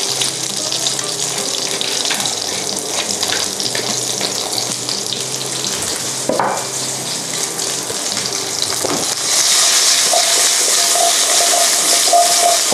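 Pork chop seasoned with salt and pepper sizzling as it is stir-fried quickly in a pan over high heat, a continuous hissing fry with occasional clinks that grows brighter toward the end.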